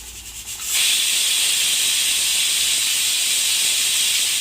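A pressure cooker holding green chicken chops vents steam: after a brief quiet start, a loud, steady, rushing hiss bursts out and holds without a break, close and alone.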